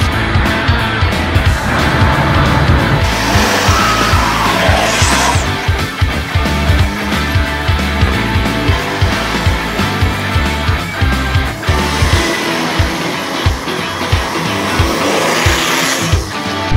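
A Nissan rally car slides through mud on a wet course, its engine roaring loud and close with repeated revving surges, tire slip and spattering noise throughout, no voices.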